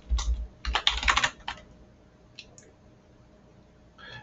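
Typing on a computer keyboard: a close burst of quick key clicks, then a few scattered taps after a pause.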